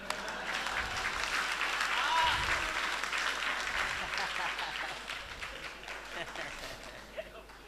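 Audience applause and cheering at an open-air Hindi poetry gathering held by a town council, a dense steady wash of many hands clapping with crowd noise and some voices mixed in, tapering slightly toward the end.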